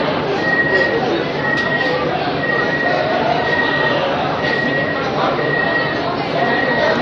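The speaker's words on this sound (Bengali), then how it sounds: "দরজা বন্ধ হওয়ার সঙ্গে আওয়াজ হলো মেট্রোর মতো" An air-conditioned Sealdah–Ranaghat local train closes its doors on inauguration day, giving a metro-like repeating warning beep over steady carriage rumble and crowd murmur.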